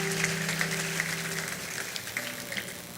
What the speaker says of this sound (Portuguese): Faça uma salva de palmas.